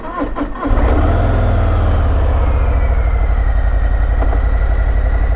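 A Harley-Davidson Fatboy motorcycle starts with a brief burst, then its deep engine settles into a loud, steady rumbling throb as it pulls away, close by and with no voices.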